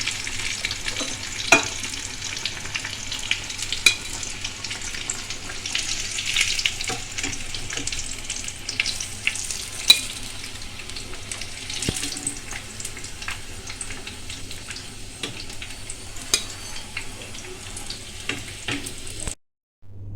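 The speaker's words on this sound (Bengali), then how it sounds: "এপিট ওপিট করে আমার ভাজা হয়ে গেছে" Chicken cutlets fry in a pan with a loud, continuous sizzle and crackle, broken by occasional clinks and scrapes of turning, with no one speaking.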